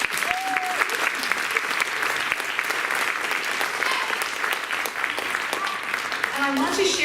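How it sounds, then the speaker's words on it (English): An audience at a 5th grade promotion ceremony claps steadily for the class, a dense, even wash of applause lasting several seconds with a few faint voices mixed in. "let's give a round of applause to this amazing class"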